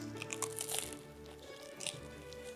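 Someone bites into a crispy triangle sandwich, producing a few close, crackly crunches with quiet chewing between them.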